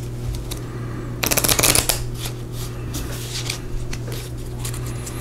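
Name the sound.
riffle shuffling small playing cards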